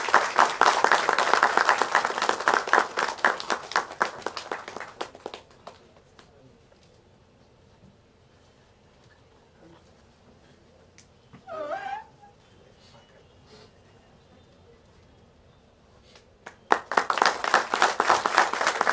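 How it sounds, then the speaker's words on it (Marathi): An audience at a Maharashtra government function applauds in two bursts, dense close clapping at the start and again near the end, with a quiet lull and a brief voice between. "टाळ्या वाजल्याच पाहिजे."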